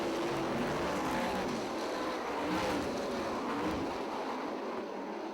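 Sprint cars, 360 class, racing on the dirt oval at Perris Auto Speedway, a distant blended engine roar that swells and fades as the field passes, steady and continuous without talk.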